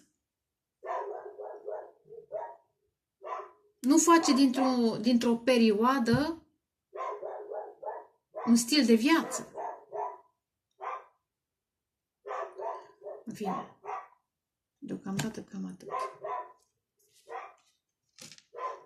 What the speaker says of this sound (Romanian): Scuzați lătratul cățeilor.